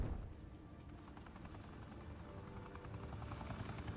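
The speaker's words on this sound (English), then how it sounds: "That goddamn news helicopter." A news helicopter flies overhead, its rotor beating in a rapid, steady chop that stays faint and distant throughout.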